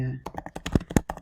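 Quick run of keystrokes on a computer keyboard, about a dozen close, crisp clicks tapping out a short word with a couple of heavier key presses in the middle.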